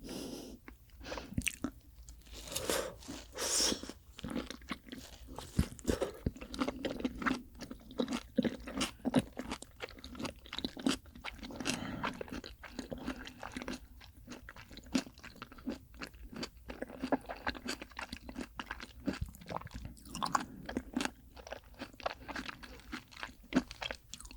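Raw rock oysters chewed and eaten up close, continuous wet chewing with irregular crunchy bites and soft mouth sounds throughout.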